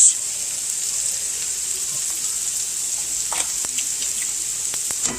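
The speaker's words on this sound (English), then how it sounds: "I'm going to crack my eggs directly into the skillet" Eggs frying in a hot skillet, a loud steady hiss and sizzle close up, with a few soft taps and crackles near the end.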